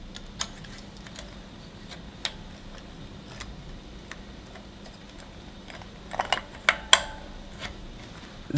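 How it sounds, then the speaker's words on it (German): Crisp clicks as an Ericsson 5G antenna module is snapped into place, a few sparse ticks at first, then a quick cluster of sharp clicks near the end over a low steady hum. "Ich zeige euch das jetzt mal in einem kurzen Clip, wie man das Ganze einsetzt und man hört dann auch deutlich das Klicken."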